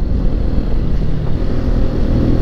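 Steady, loud low engine drone of a 125 cc motorcycle held at open throttle on a mountain road, continuous and close with no voices over it.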